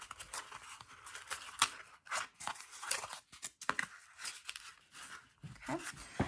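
Scissors trimming a cut in a homemade kumihimo loom, a run of close, crisp snips and crunchy cuts in an irregular rhythm, with faint handling noise between them.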